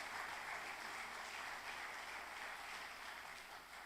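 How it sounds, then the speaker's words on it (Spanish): A church congregation claps for the Lord during a sermon, a dense, steady wash of applause that fills the room and holds from start to finish, slowly easing off near the end with no voices over it. "Ay, buenas palmas al Señor"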